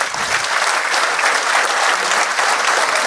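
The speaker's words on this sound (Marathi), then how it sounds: "पुन्हा अशाच एकदा जोरात टाळ्या वाजवायच्या" A crowd at a community felicitation gives loud, dense applause to the people being honoured. The clapping is continuous and close for the whole stretch, with almost no voices over it.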